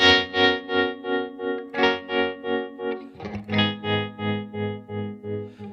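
Electric guitar chords ring through a Bad Cat Black Cat amp with tremolo at about 60% intensity, the sustained tone pulsing in even, regular swells, loud and close with no talk.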